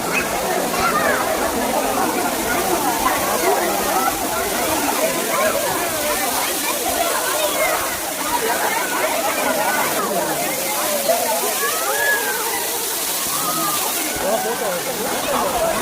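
Old Courtallam waterfall in Tenkasi, Tamil Nadu, pours down with a loud, constant rushing roar of falling water and splashing spray that fills the scene without a break.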